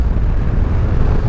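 Strong wind buffets the microphone while riding a motorbike, a steady loud low roar filling the whole clip with no break and no talk.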